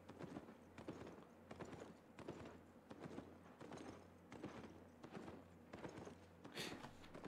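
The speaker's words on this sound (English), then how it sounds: "I love this sound, how this horse sounds." Horse hooves clip-clop steadily in the video game Albion Online, a regular walking rhythm of soft thuds repeating across the whole stretch at moderate, even loudness with no voices.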